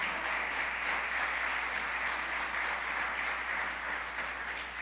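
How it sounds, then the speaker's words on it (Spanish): A church congregation claps steadily in sustained applause, a dense, even wash of many hands that holds at a constant level throughout with no voices over it. "Dele un fuerte aplauso al Señor por su palabra"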